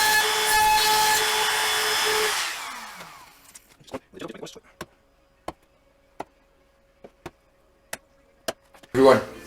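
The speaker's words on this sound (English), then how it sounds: "I set the straight cut bit just the thickness of the hinge and I cut it with a router" A router with a straight cut bit, used for cutting hinge pockets in wood for a deck flower box, gives a loud high whine that winds down, followed by a series of sparse, sharp clicks and taps.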